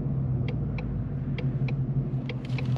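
A Ford Mustang with a 10-speed automatic holds higher engine revs while driving, a low steady engine rumble heard from inside the car with faint ticking clicks on top.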